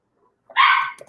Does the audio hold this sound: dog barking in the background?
yes